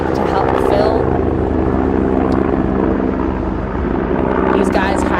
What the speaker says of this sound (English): We've got one of those helicopters coming up now that has been utilizing Yellow Lake to help fill.